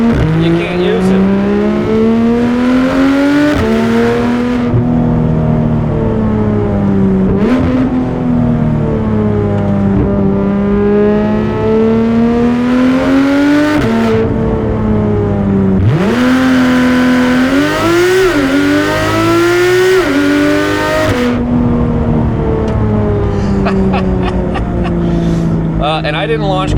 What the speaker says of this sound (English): I love revving this thing out.